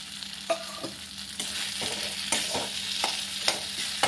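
Fried potatoes stirred back into a frying pan for a Bengali fish-head muri ghonto, a steady close sizzle broken by several distinct scraping stir strokes at irregular intervals, with no talking.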